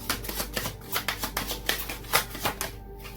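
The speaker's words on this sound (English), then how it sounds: "So these are the chakra wisdom cards." A deck of chakra wisdom cards is shuffled up close in a steady run of quick papery riffles and slaps, about a dozen distinct bursts, with no talking.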